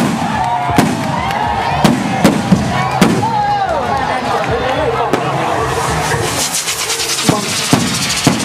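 Bamboo rockets are launched at a Bun Bang Fai rocket festival in Udon Thani, Thailand, held as an offering at a temple relic. Sharp cracks and bangs repeat over a constant roar of crowd noise while an announcer speaks.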